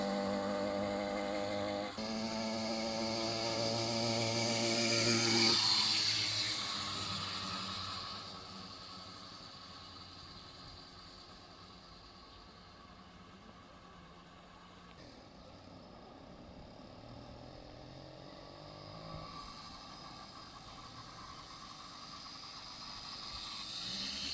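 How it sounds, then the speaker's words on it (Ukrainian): A Riga-13 moped with an F80 engine, running faultily, revs up, then settles into an uneven, wavering idle that rises and dips rather than holding steady, with no talking. "ви і так могли почути, що двигун працює не зовсім правильно"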